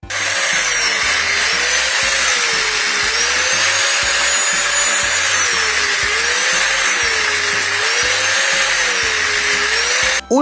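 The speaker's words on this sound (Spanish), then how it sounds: "lo que fue capaz de hacer con la amoladora" An angle grinder runs steadily and loudly for the whole stretch, a continuous high whine with a slowly wavering pitch, alone without any talk.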